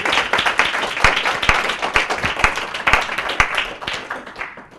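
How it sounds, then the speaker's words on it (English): A small audience applauding at a talk on making your own healthcare products, steady overlapping claps with a few sharper individual claps standing out, fading slightly toward the end. "You're getting clapped."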